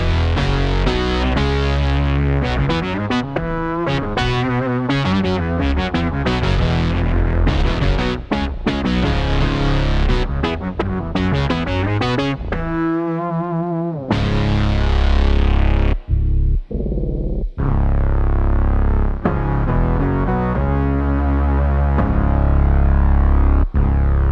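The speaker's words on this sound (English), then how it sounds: "So that's the sound of the SY-200 into Quad Cortex." Electric guitar run through a BOSS SY-200 synthesizer set to its filter bass patch and into a Quad Cortex, producing thick, distorted synth-bass notes in a steady rhythmic pattern with a few brief gaps and sharp stabs, loud and continuous.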